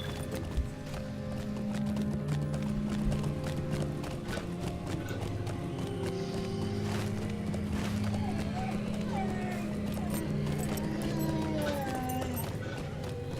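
Horse hooves clip-clop in a steady galloping rhythm while riding in the online game The Lord of the Rings Online, running continuously with game music and ambient sounds underneath.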